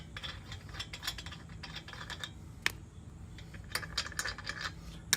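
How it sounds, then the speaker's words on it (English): Lug nuts come off the rear wheel of a 2010 Ford Edge, with quiet, close ratcheting clicks and metallic taps in irregular bursts and no talk. "Take the lug nuts out."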